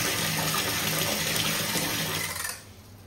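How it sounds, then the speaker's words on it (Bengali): Water pours steadily from a tap to fill a container in a home bathroom, a continuous rushing splash that stops abruptly near the end, leaving quiet room tone. "আর বাথরুমে জল ভরতে দিয়েছি"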